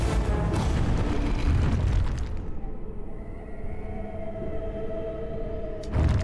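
Fire spell blast in Dragon Age: Origins, a loud booming explosion with rumbling low end that settles into a crackling, fading burn, then another heavy burst at the very end.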